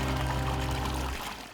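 Water from an artificial stream pours steadily into a basin, a dense, loud rushing splash that fills the whole stretch before tapering slightly at the end.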